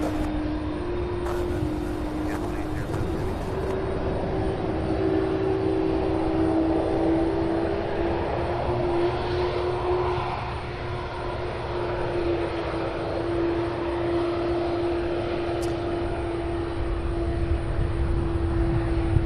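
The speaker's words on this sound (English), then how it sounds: "UPS, beautiful landing." A UPS airplane landing at Louisville's SDF airport, with a steady, fairly loud jet engine roar and a constant tonal hum that carry through the whole stretch without talk.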